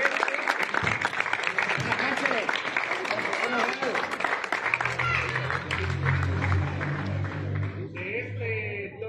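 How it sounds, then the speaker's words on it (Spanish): An audience at a youth under-11 football final in Guatemala applauds the tournament's top goal scorer, dense clapping that runs throughout, with a low hum and crowd noise building in the second half. "queremos pedirle que le brindemos fuertes aplausos, y es Martín Joel Reyes Lancerio"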